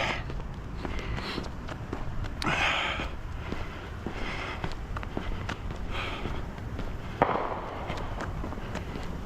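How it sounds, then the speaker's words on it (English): Distant fireworks thump and crackle in scattered bursts over a steady outdoor background during a night walk in Maine, with one sharper bang near the end. "fireworks."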